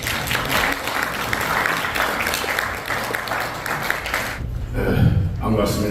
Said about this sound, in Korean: 우리 박수로 해주시면 대단히 감사하겠습니다